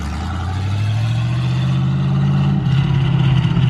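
A Corvette with no exhaust pulls away close by with a loud, deep, steady engine roar that climbs in pitch as it accelerates.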